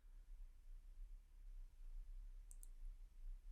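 Two quick, faint mouse clicks sound in close succession as the open button is pressed in the Shotcut video editor, set against a quiet room hiss.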